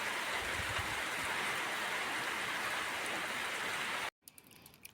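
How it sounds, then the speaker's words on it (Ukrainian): Steady, dense rainfall pattering on surfaces nearby, then cutting off abruptly near the end, leaving quieter ambience. "О, це був дощик."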